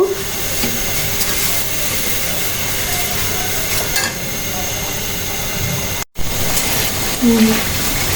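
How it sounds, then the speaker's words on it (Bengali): Cumin and coriander spice masala frying in a pan for chicken roast gives a steady, close sizzling hiss that runs throughout, with a brief break near the end before it resumes. "এখন আমি এই মশলাটা সব সুন্দর মতো কষিয়ে নিব"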